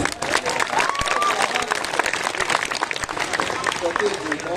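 Audience at a kavi sammelan poetry gathering in an ashram hall clapping steadily, a dense patter that runs throughout at moderate loudness, with talk and crowd murmur mixed in.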